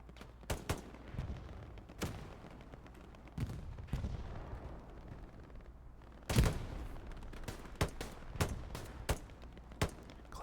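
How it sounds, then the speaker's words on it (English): Gunfire crackles across a battle in the Hell Let Loose game on the Omaha map, with sharp single shots and short bursts scattered irregularly. Some are near and some distant, and one heavier blast lands near the middle. "Clownface shooting."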